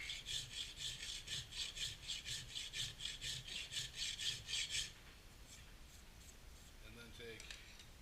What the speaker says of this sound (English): I would start with a round file, cut the plunge in,